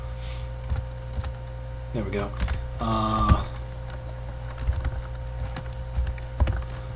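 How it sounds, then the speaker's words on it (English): Computer keyboard keys tapped in scattered bursts while editing Linux network settings, close and fairly quiet over a steady electrical hum, with someone briefly speaking partway through. "What am I doing? Just hitting keys now."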